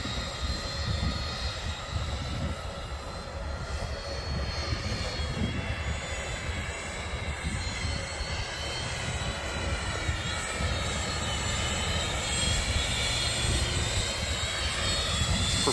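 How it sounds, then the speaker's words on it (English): An ArcSpear production prototype aircraft on its first autonomous flight, its steady propeller-engine drone holding constant and fairly loud, gradually shifting in pitch as it circles overhead. "This is all a fully autonomous flight."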